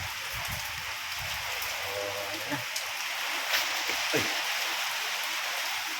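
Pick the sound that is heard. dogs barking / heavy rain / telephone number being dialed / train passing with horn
heavy rain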